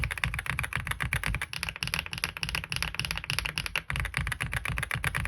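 Continuous fast typing on an AULA F87 mechanical keyboard, sharp clicky keystrokes following each other quickly and evenly, heard up close with no voices.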